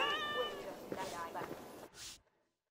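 Cat meowing in Assassin's Creed Valhalla during the Siege of Paris, a drawn-out harmonic meow with a second short cry, heard over game background sound and speech-like murmur before cutting to silence.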